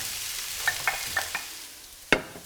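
Vegetables and mince frying over low to medium heat in olive oil in a pan, with a soft sizzle under a few light stirring scrapes and one sharper clack near the end.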